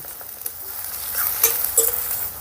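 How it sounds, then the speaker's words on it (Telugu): Sliced onions and curry leaves fry in a pan for garlic-chilli egg curry, giving a soft steady sizzle with a few brief crackles and stirring scrapes, fairly quiet and with no talk. "ఇప్పుడు ఈ ఉల్లిపాయల్ని బంగారు వర్ణం వచ్చేంత వరకు ఫ్రై చేసుకుందాం"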